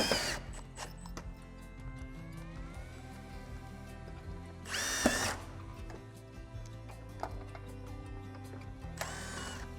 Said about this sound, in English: So I am just gonna go and put screws along the ridge of this.